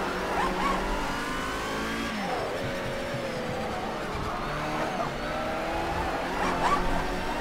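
A Group A BMW M3 race car engine in Project CARS 2 revs and shifts down through a corner, the pitch sweeping down and climbing again as another car's engine drones nearby, with a brief tire squeal.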